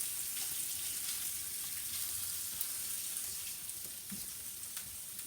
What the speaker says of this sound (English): We'll put this one on the griddle, let these cook.